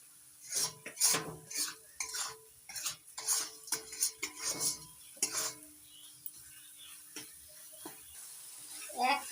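Salt, turmeric and Kashmiri red chili powder are stirred into spices in a pan over low flame, with repeated scraping clinks of a spoon against the metal pan in an uneven rhythm and a faint sizzle beneath.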